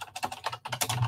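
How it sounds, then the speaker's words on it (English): Rapid, aggressive typing on a computer keyboard: a quick irregular burst of sharp clicks close to the microphone, fairly quiet, with no one talking. "aggressively typing"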